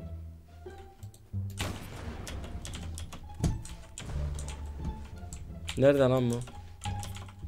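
Rapid clicking of a computer keyboard as someone types into the chat of the online shooter Zula. The close, crisp key taps come in quick uneven bursts while someone talks over them.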